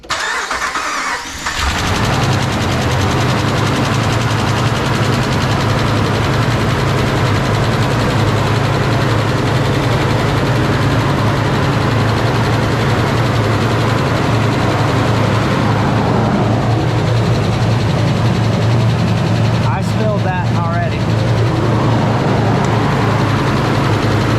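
A Hemi V8 with cylinder deactivation (MDS) deleted cranks and fires on its first start, then settles into a loud, steady, close rumbling idle that holds for the rest of the clip.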